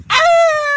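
A boy imitates a dog yelping after being struck by a stone, one short, loud, sustained high whine, close and alone.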